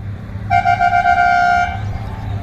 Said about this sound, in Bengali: তো আমার বাস হর্ন মারছে, তো বাস এবার চলে এসছে